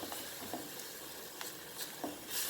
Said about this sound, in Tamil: சேர்த்து நல்லா மிக்ஸ் பண்ணிடுவோம்